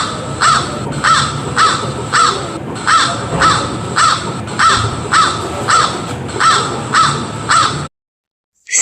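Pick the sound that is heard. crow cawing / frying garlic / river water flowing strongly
crow cawing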